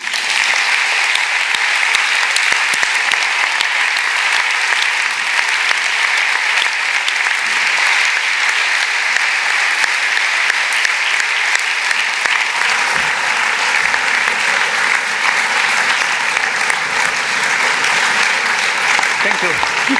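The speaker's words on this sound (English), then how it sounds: "I think a warm round of applause from everybody will finish this morning." Loud, sustained audience applause filling a morning gathering in Winterthur, Switzerland, steady and dense from start to finish without a break.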